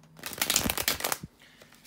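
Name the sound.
shuffling tarot cards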